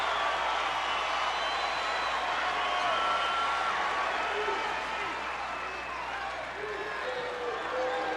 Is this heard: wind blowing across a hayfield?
no